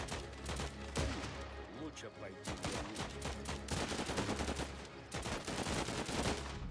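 Bursts of automatic machine gun fire in the video game Last Train Home, rapid cracks layered over continuous battle noise with a voice talking over it throughout.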